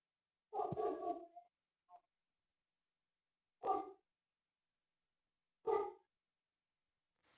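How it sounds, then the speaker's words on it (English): A dog barks at home in several separate bursts, one longer volley followed by two short, sharp barks spaced a couple of seconds apart, clear and close against silence. "Someone has a dog"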